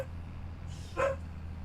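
A farm dog in Farming Simulator 25 gives a single short bark, fairly faint and distant, over a steady low game hum.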